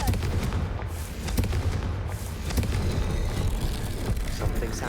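A Confringo spell blast in Hogwarts Legacy goes off as a loud, booming burst, followed by repeated impact-like cracks and rumbling explosions over a steady noisy background.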